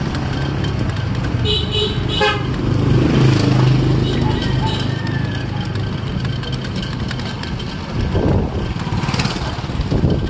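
Busy street traffic rumbles nearby while car horns toot several times in short bursts early on, with people talking over the engine noise.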